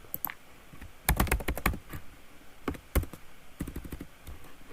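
Quick bursts of typing on a computer keyboard, clustered clattering keystrokes with short pauses between runs, close and fairly loud with no talking.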